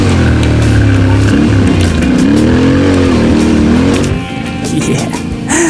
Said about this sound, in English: It was time to rev up the engine.